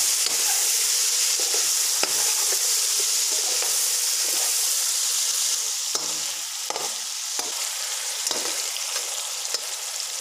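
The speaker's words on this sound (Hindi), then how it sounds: "चिकन को हम टमाटर के साथ भूनेंगे।" Chicken roasting with chopped tomatoes and a green chili in a pan for a Punjabi yogurt chicken pulao, giving a steady close sizzle broken by repeated scrapes and clacks of a stirring spoon, with no talking.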